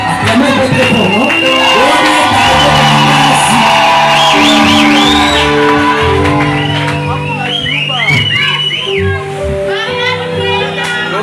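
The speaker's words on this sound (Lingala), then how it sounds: "Acclamez votre fort, non?" A crowd at a ceremony with a wedding ring exchange cheers and shouts loudly and close, mixing whoops, high ululating cries and overlapping voices that continue throughout, with some chatter among them.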